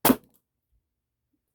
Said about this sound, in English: Here is the first shot.